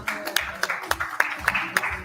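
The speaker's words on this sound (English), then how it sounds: "we give them a huge round of applause?" Audience applause at a live conference event, a loose round of rhythmic hand claps at moderate distance, fairly sparse and steady over a low murmur.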